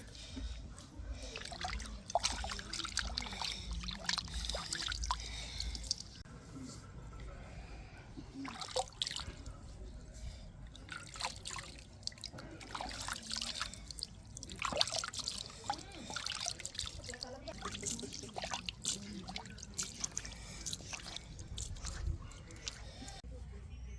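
Water poured and splashed over a stone grinding mortar (rolu) while it is scrubbed clean, with irregular trickles, drips and scraping knocks over about twenty seconds, fairly close.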